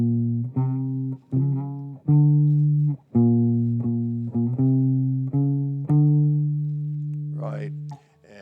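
Jazz guitar comps chords from a tune with a moving bass line: a series of struck chords, each ringing briefly before the next, close and clean, ending in a short scrape of string noise.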